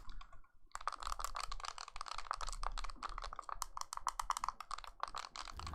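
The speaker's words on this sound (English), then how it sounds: "all the buttons are fine and feel good, but they are very clicky and are easily heard when casually playing" Very clicky buttons on an Anbernic RG35XXSP handheld game console are pressed in rapid, irregular bursts, giving a dense run of close, quiet clicks and taps.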